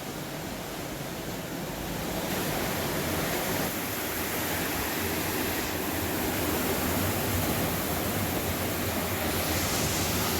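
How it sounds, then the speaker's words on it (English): Ocean surf on a Hawaii shore, a steady broadband wash of breaking waves that swells slightly louder after the first couple of seconds and holds as a continuous near roar, with no voices. "And the sound of the ocean, you know, I go to sleep every night with this."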